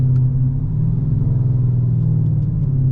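Inside a Dodge Charger R/T with a 5.7L V8, the engine makes a loud, steady low rumble with a pulsing throb as the car drives along, with no talking.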